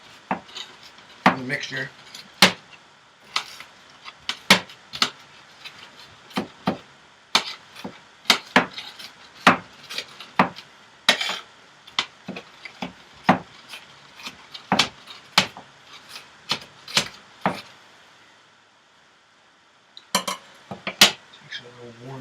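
A knife chops an onion on a cutting board for meatballs, sharp steady knocks in quick irregular bursts with a brief pause, close and clear, while someone talks now and then.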